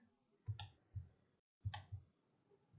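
Quiet, close mouse clicks while working in DesignSpark Mechanical CAD software, heard as two separate pairs of crisp taps about a second apart in an otherwise silent room.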